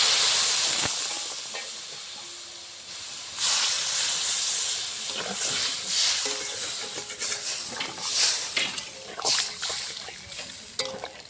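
Water poured onto potatoes frying in spices sets off a loud hissing rush of steam that holds throughout, with sputtering bursts and scraping stirs, no voices.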